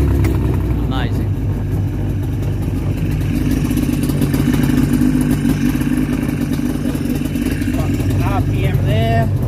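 An XE Mosquito helicopter's air-cooled two-stroke MZ 202 engine runs with a loud, steady, buzzing drone throughout. People talk nearby over the noise.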